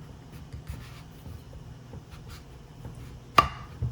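A kitchen knife cuts down through the middle of a butternut squash, with faint scraping and soft blade contact building to one sharp, close chop near the end.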